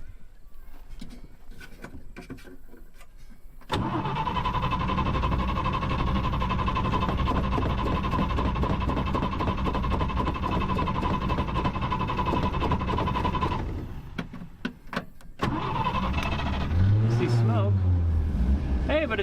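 An abandoned 1954 Chevrolet Bel Air engine fires up after sputtering and runs steadily for about ten seconds, falters briefly, then catches again, loud and close, with people talking at the start and end.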